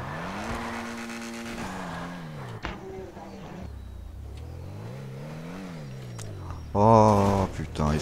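A car in GTA 5 that won't brake revs loudly and skids, its engine pitch sweeping up and down with a brief tire squeal before a louder burst near the end.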